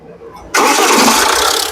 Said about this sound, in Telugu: ఒకసారి ఇంజన్ స్టార్ట్ చేయి